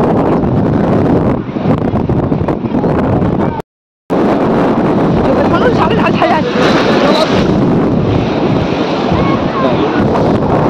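Strong wind and rolling waves sweep across the river mouth at Digha, a loud, steady roar of surf and microphone buffeting, cut off for a moment midway, with voices faintly mixed in.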